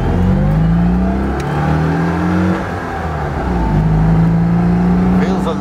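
A Citroen 2CV drives along and accelerates, its small engine droning and rising in pitch through the gears. The sound is loud and close, as from inside the car, and runs continuously.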